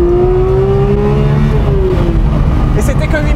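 A Porsche 911 Speedster engine screams at very high revs, around 8,500 rpm, a loud, sustained high-pitched whine heard up close.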